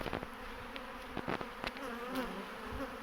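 A honeybee swarm that has left its hive buzzes in the open while searching for a place to settle, a steady close drone with individual bees zipping past the microphone in brief louder passes.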